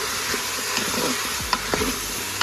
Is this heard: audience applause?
no